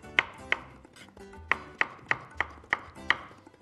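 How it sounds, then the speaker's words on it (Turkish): A knife chops a tomato into small pieces on a board, about eight crisp, evenly spaced cuts, close and clear with no talking. "Şöyle bir domatesimizi önce bir ufaktan bir keselim."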